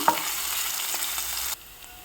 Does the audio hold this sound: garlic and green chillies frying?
yes